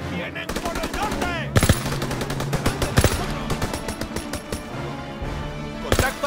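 Heavy World War II gunfire in Call of Duty WWII: rapid machine-gun bursts with loud individual rifle cracks, close and dense, with battle shouting mixed in.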